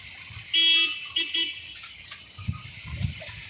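A car horn honks from a distance in a short burst of a few toots, fairly faint over a low rumble of passing traffic and outdoor ambience.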